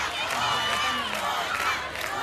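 A television studio audience cheers and applauds, a close, continuous roar of voices and clapping with no individual speech standing out.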